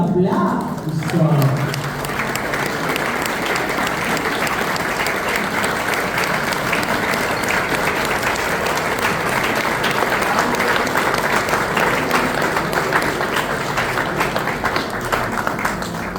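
An audience at a Paraguayan art and culture event in Buenos Aires's Palacio Barolo breaks into sustained, dense applause that continues steadily throughout, with a voice heard briefly at the start.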